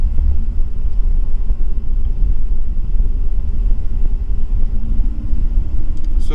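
A car engine runs during an OBD2 fuel-pressure check, giving a steady, loud low rumble close by without a clear rising rev, and no voices are heard.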